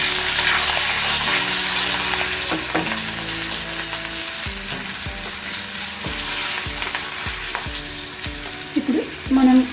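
Turmeric and curry leaves tempering in hot oil make a loud, steady, close-up sizzle that runs unbroken, with background music playing underneath.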